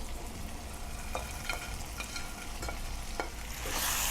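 Fried chicken is stirred into sizzling carrot and cabbage fried rice, a soft steady frying hiss with occasional spoon scrapes that grows louder at the end.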